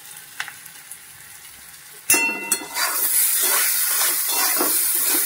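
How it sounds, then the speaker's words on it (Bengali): Onions fried in a pan go quiet at first with a few light taps, then burst into a loud hissing sizzle after a sharp clatter, with scraping stirs running through the steady spitting. "ভালো করে নেড়ে ভেজে নিচ্ছি"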